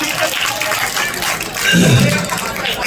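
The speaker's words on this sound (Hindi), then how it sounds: "मैं एक बार चाहूंगा अपने लिए जोरदार तालियां बजा लो।" A large crowd at an outdoor political rally in India claps loudly and continuously, a dense, steady wash of applause that swells slightly toward the end, with no speech over it.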